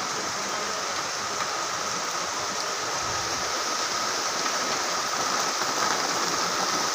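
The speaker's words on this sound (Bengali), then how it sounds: "দেখো খুব জোরে বৃষ্টি এসে গেছে।" Heavy rain pours down steadily under a shelter, a loud, dense, unbroken roar of falling water that swells slightly toward the end, with no voices.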